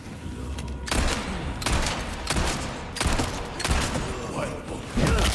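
Handgun shots in Resident Evil 4, about five loud, evenly spaced bangs roughly a second apart, each with a short reverberant tail, over a low game-ambience bed.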